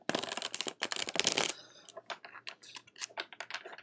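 Tarot cards are shuffled in a brisk, close burst of riffling, followed by lighter scattered clicks and taps as the deck is handled, with no talk.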